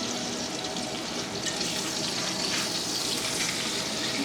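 Pork steaks sizzle and fry steadily in a pan after being turned over, a dense continuous crackle and hiss close up with no talking.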